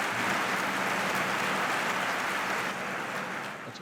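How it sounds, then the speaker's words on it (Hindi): Audience applause at a Hindi comedy poetry gathering, a broad, steady wash of clapping from a crowd that holds evenly and then begins to thin and fade toward the end. "हाँ, एक बार तालियां वालियां बजा दीजिए आप।"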